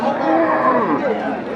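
A Sahiwal bull moos in a long, low drawn-out call, close by, at a cattle market, with voices chattering faintly in the background.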